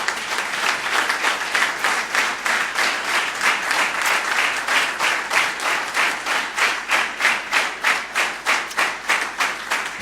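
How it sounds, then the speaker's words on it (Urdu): Audience applause for Jesus during a church service: sustained, rhythmic hand clapping from a congregation, steady and fairly loud across the whole stretch with pulsing beats and no talk over it. "آئے ایک دفعہ یسوع کے لیے زوردار تالیاں بجائیں"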